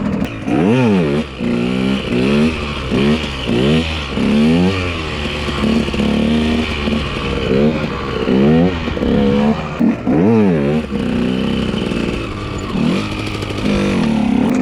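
A 125 EXC dirt bike engine revs hard and continuously during a wheelie, the throttle repeatedly blipped up and down in a rising-falling pattern, loud and close.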